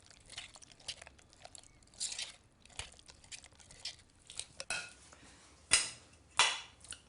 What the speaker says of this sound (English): Hang on, just give it a bit of a stir.